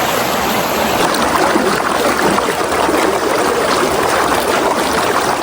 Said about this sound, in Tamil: தண்ணி ரொம்ப அளவு கம்மி தான், ஆனால் இழுவது ரொம்ப ஜாஸ்தி